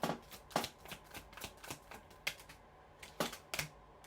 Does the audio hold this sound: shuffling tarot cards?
yes